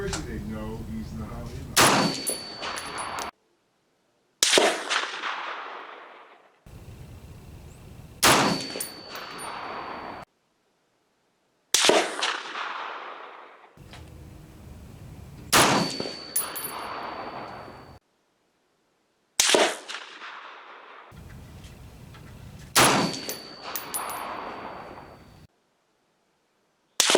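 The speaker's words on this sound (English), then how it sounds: "this one I'm going to shoot at the lower right-hand target" A Springfield M1A rifle fires at a target range, sharp loud gunshots in separate bursts, each followed by a short ringing decay, with quieter gaps and handling noise between shots.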